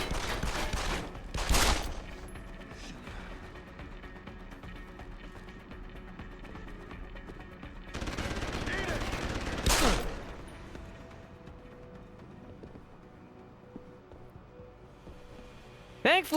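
SMG gunfire from enemy soldiers in Deus Ex: Human Revolution, coming in two loud bursts of rapid shots a few seconds apart over steady game ambience and music.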